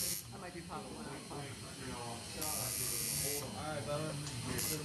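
Steady electric buzzing from a tattoo machine during a first tattoo session, running continuously and fairly close under ongoing conversation.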